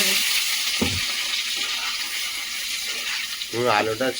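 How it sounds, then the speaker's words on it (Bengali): Potatoes frying in hot oil with panch phoron in a kadai give off a steady, dense sizzle throughout, with a voice speaking briefly at the very end. "কড়াইতে তেল দিয়ে দিচ্ছি আর একটুখানি পাঁচ ফোড়ন ওটা একটু গরম হচ্ছে না তেল আলুটা দিয়ে"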